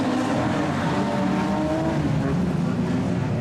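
A production sedan race car at Kingaroy Speedway fires up and runs, its engine note droning steadily and fairly loud against a constant background of track noise.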